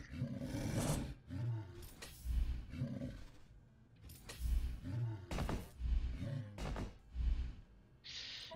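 A bear in a video game giving repeated deep, growling roars in rhythmic bursts, loud and close, with rough breathy snorts between them.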